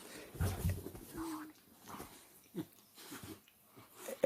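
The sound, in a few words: dogs fighting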